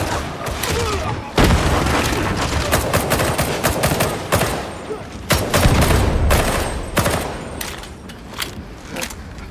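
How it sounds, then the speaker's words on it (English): Gunfire in the video game Warhammer 40,000: Darktide, with a grenade blast and heavy rapid shooting: loud dense bursts and booms that keep going with almost no pause, as voices call out in places. "Throwing grenade!"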